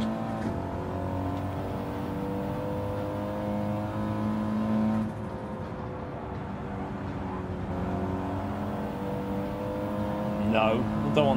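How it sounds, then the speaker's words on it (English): A Subaru race car in Gran Turismo 7 drones along with a steady engine tone as it passes, its pitch shifting midway, under a voice talking. "Subaru getting past me."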